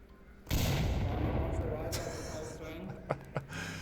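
A frag grenade goes off in the Onward VR shooter during a competitive match, one sudden booming blast that rumbles and fades, then a couple of sharp cracks follow.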